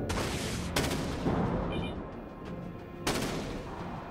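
A short-range gun fires in the naval combat game Dreadnought: two heavy, booming bursts, one near the start and one late, separated by a rumbling, crackling stretch of battle noise.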